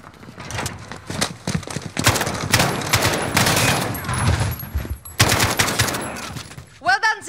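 Gunfire from an ambush in the video game Modern Warfare: loud, close bursts of rapid automatic shots and dense volleys, with a short tonal swoop at the end.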